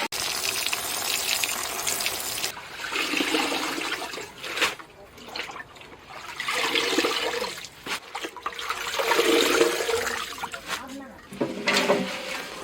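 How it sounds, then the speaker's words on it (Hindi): Mixed leafy greens (mustard, gram, spinach) swished and rinsed in a vessel of water, bursts of splashing and gushing returning in repeated rounds with short pauses between, fairly close and moderately loud, with no talk. "और इसको बढ़िया से 3-4 पानी धो देंगे।"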